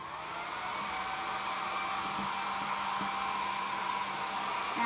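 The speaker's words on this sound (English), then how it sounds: "So you take your hair dryer." A hair dryer blows on stretched needlework during framing. Its steady motor whine and airflow hiss run continuously and fairly close, growing slightly louder over the clip, with no talking.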